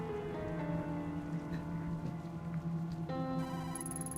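A telephone ringing inside a paper bag in the video game Tokyo Dark, a faint repeating electronic ring over soft rain-like ambience and low game tones, with a brighter chime entering near the end.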